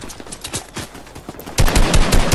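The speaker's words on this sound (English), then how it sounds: "And I'm getting more gunshots." Rapid gunfire in the Fortnite video game, bursts of shots that turn louder and denser halfway through, close and alone with no voices.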